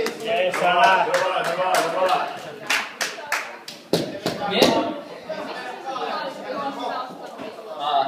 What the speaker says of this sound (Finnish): Aplodit hänelle.